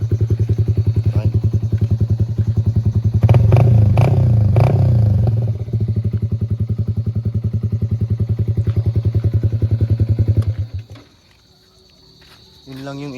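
A Yamaha Sniper 155 motorcycle with an Akrapovic muffler and stock ECU idles with a loud, close throbbing exhaust, swells in a brief rev, settles, then cuts out abruptly before a quieter restart.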